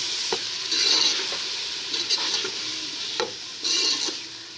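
Tomatoes, ginger and garlic fry for a chicken and potato curry, sizzling steadily in a pan while a spoon stirs and scrapes in repeated close swishes.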